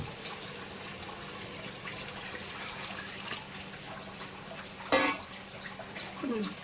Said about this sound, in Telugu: ఇప్పుడైతే వాటర్ పోసేస్తున్నానండి